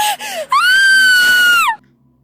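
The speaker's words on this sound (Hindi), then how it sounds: "रात के 2 बजे वही पुरानी चीख सुनाई" A long, high, sustained scream for a nighttime horror story effect, rising sharply and holding a wailing tone before cutting off into silence, loud and close.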